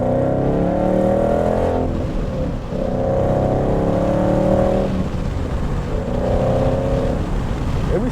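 Ford Mustang GT V8 pulling hard through the gears, engine rising in pitch in three repeated sweeps with brief drops between as it shifts, loud and close from inside the car, with no talking.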